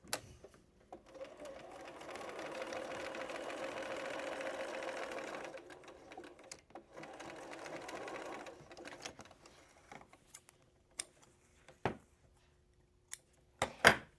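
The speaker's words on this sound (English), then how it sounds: "I'm going to go ahead and stitch right down this seam line." A vintage Singer sewing machine stitching down a seam line on fabric, a steady quiet whirring run of several seconds followed by a shorter burst, then scattered clicks and taps in a quiet room.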